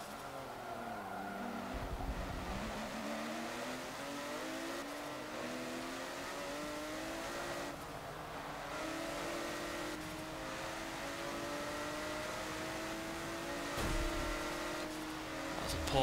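Porsche 911 GT1 Strassenversion racing on a circuit in Forza Motorsport 7, its engine steadily revving up and down through gear changes with brief tire squeals, loud and continuous throughout.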